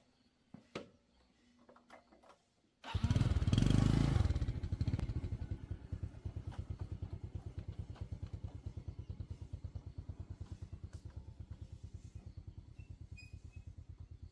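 A motorcycle on a forest dirt path starts with a loud burst, then settles into a steady, rapidly pulsing idle that continues at close range with no talk.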